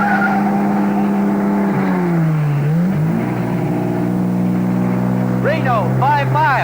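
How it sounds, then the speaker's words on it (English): A race car spinning out on a road near the Nevada state line in a 1954 film, with a sustained engine drone and sliding tire squeal pitching down, then rising squeals near the end, loud throughout. "Just beyond the Nevada state line, the Tomahawk spun out"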